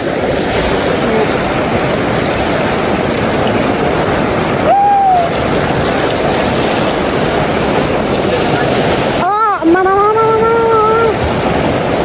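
Loud, steady rush of a river tumbling over stones near Dharan, filling the whole stretch up close, with brief voice sounds near the end.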